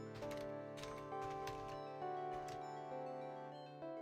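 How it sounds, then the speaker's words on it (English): Fast clacky key presses on a very loud computer keyboard, coming in short irregular bursts against a faint steady hum, with no talking. "I apologize for this keyboard I'm temporarily using because it is very loud"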